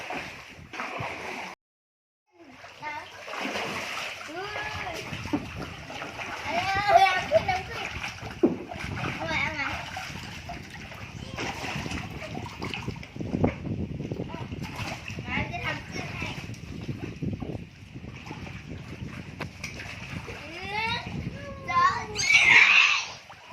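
Children splash and play in an inflatable backyard pool at home, with continuous watery splashing and sloshing under steady children's voices and chatter throughout, growing brighter and busier toward the end.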